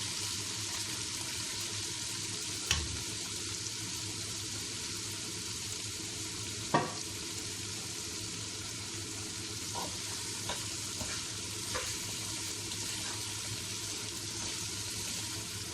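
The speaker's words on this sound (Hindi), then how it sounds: "अब इसको हम अच्छी तरह फ्राई कर लेंगे।" Meat for sheikhi gosht frying in a pot, a steady broad hiss throughout with a couple of sharp utensil knocks and a few faint stirring clinks.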